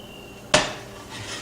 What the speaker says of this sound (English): take these vegetables that are well soaked and I'm going to put them in our casserole dish